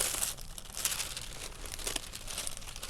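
Paper from a work supply, saved as junk journal and card making material, crinkles and rustles steadily under handling, close to the microphone, with brighter crackles now and then and no talking.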